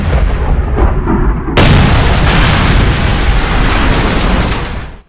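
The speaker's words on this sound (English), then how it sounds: "we've got a marvelous explosion, helicopters colliding" A loud explosion with helicopters colliding in the shooter video game Ghost Recon Future Soldier, a sudden deep boom that swells into a roaring, rumbling blast lasting several seconds before cutting off.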